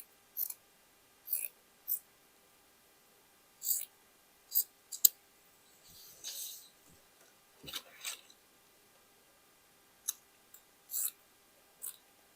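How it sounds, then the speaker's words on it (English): Scissors cutting through a piece of shirt fabric, a series of crisp snips spaced irregularly with brief pauses, close and quiet in an otherwise silent room, with a faint softer rustle in the middle. "I will cut the whole piece because I want to see exactly how much fabric I have."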